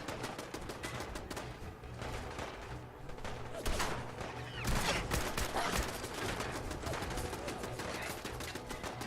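Turret gunfire in Fallout 4 VR, rapid dense bursts of automatic shots rattling continuously at close range, with a few heavier cracks mixed in.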